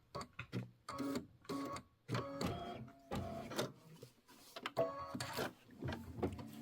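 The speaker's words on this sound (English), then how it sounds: "We're going to do all the satin stitching all at once." An embroidery machine runs satin stitching on a small quilt block in teal thread, a series of short whirring, clacking bursts separated by brief pauses, moderately close with no talk.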